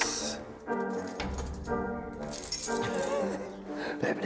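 A large bunch of keys at a zoo at night jangles and clinks in several metallic bursts, close by, mixed with rustling and handling noise while people talk.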